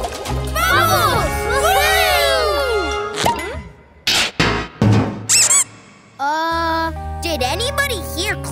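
Repeated high, squeaky chirps and sliding tones, loud and close, mixed with brief bursts of voices and splashy noises.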